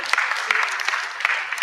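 An audience at a Kenyan multiparty democracy gathering breaks into loud, close applause. The clapping is dense and continuous, with scattered sharper claps throughout and a voice partly heard under it.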